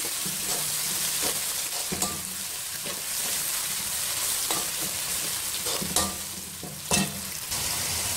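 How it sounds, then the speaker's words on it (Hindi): Ginger-garlic paste sizzles steadily in a hot pan while a utensil stirs and scrapes, with a few louder clanks against the metal, no talking. "ये कुटा हुआ अदरक लहसुन है, ये मैं मिक्स करूंगी"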